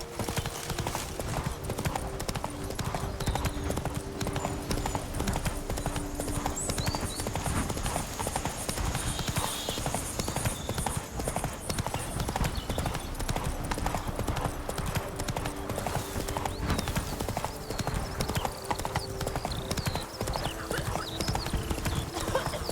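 Roach the horse clip-clops steadily through The Witcher 3: Wild Hunt, Blood & Wine, her hooves beating a continuous rhythm under game music and ambience, with an occasional neigh.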